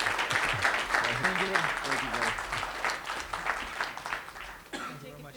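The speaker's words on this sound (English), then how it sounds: "A hand of applause for Gretchen Ryan and GGG." Applause from the crowd at a boxing press conference for Golovkin vs. Monroe Jr., steady dense clapping through most of the stretch with voices talking over it, thinning out near the end.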